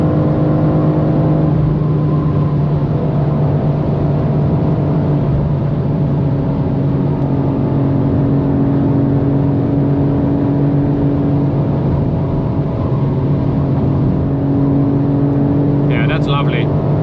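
BMW M2 G87 cruising at high speed on the Autobahn, a steady loud engine drone with tire and wind roar running continuously throughout, a brief higher sound near the end.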